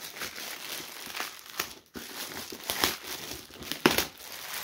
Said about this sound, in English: Take this plastic off.